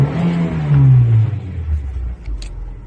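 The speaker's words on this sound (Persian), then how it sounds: "ماشین باز روشنه ولی دور موتورش کار نمیکنه" A car engine runs loudly up close, its tone sliding downward as the revs drop to a lower rumble, the engine running but its revs not responding properly.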